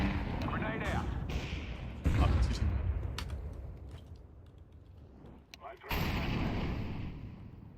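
A grenade, a smoke grenade and a Molotov go out in a shooter video game, with sharp bursts and blasts over continuous battle noise. A player talks over the action.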